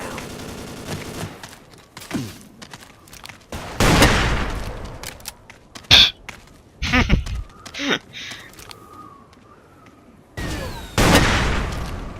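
Gunfire crackles in the blocky shooter game Ace of Spades, short bursts and single loud shots scattered irregularly, with quieter gaps between volleys.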